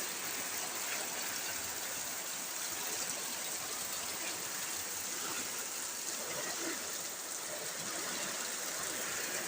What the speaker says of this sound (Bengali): কেমন জোরে বৃষ্টি হচ্ছে।